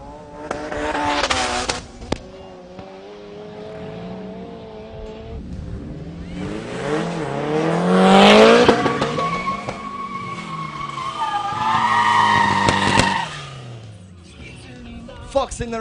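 Turbocharged cars, a Fox and an Uno Turbo, drag racing at Midvaal Raceway: loud revving engines rise and fall, with tire squeal and rising acceleration passes, under a commentator's talk.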